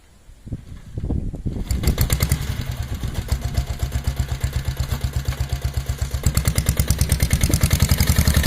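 A diesel Bullet motorcycle starts and settles into a loud, thumping, clattery idle with an even slow pulse, close by and steady to the end.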